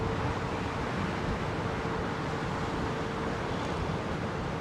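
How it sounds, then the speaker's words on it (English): Strong, gusty wind at Heathrow Airport roars steadily across the microphone as broadband rumble with no letup, loud and close, with no voices. "quite blustery here"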